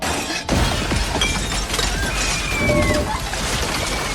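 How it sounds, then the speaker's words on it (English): A glass jar smashes hard on the ground with a loud crash, followed by several seconds of scattering, tinkling shards and rattling debris. "She picked up the jar and smashed it hard on the ground"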